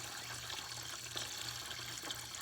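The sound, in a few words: water poured into bucket for chickens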